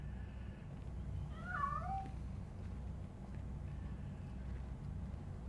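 A cat in the video game RoboCop: Rogue City gives a single drawn-out, wavering meow from a hidden spot, moderately close and set against a low ambient background hum.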